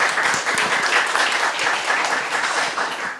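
Audience applause opens a book talk for the Korea Report 2018, with a steady, dense round of clapping that fills the room without pause from start to finish.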